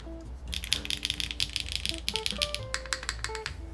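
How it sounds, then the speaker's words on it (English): Rapid clicky keystrokes on the alpha keys of a Keycult No. 1 TKL mechanical keyboard, a dense close-up burst of sharp taps in uneven rhythm with faint background tones. "I'm only going to type on the alphas."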